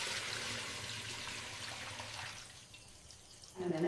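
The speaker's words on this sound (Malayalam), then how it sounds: "ചേമ്പ് നന്നായി വേവിച്ച ശേഷം അതിലെ വെള്ളം മുഴുവൻ കളയുക." Water being poured off a pot of boiled taro root in a Kerala kitchen, a steady splashing trickle that fades, followed by a brief louder clatter at the end.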